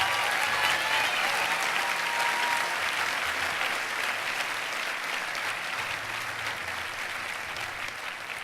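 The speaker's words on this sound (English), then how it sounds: "I think we ought to give Sandy a round of applause." Sustained applause from a large crowd at a college commencement ceremony, a dense, even roar of clapping hands that holds steady for several seconds and eases slightly toward the end, with a faint voice briefly audible underneath.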